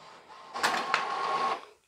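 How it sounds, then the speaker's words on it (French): An inkjet-style printer runs through a sticker sheet, a steady mechanical whir with two sharp clicks of the feed and print head, rising midway and stopping near the end, close and fairly quiet. "Je suis vraiment contente de cette imprimante."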